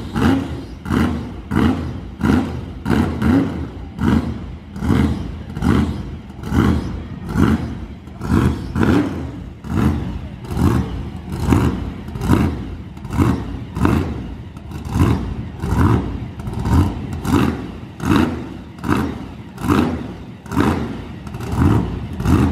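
A monster truck's big engine revs over and over in a loud, rhythmic series of roaring bursts, each swelling and falling in quick succession for a long stretch without talk.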